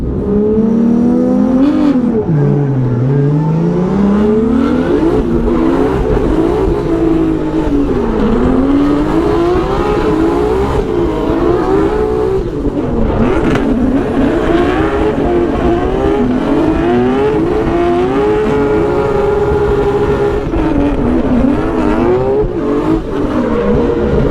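A BMW E36 drift car on a practice lap, its engine revving loud and continuous, pitch climbing and dropping through gear changes and slides for the whole stretch.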